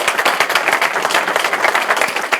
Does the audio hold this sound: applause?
yes